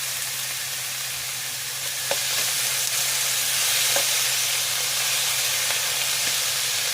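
Pork fat renders into oil for sautéing in a pan, giving a steady bright sizzle with a few faint clinks over a low hum, moderately loud and close, and no one speaks.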